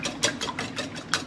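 Eggs being whisked for homemade eggnog, a rapid rhythmic series of close whisk strokes against a bowl, about six beats in quick succession.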